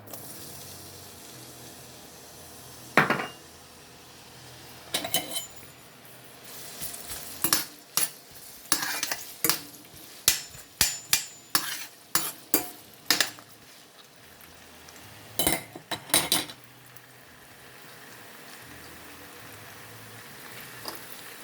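Ginger being stir-fried in a pan for noodles: quiet steady sizzling broken by a run of sharp spatula scrapes and clacks against the pan, close and irregular, with no talking.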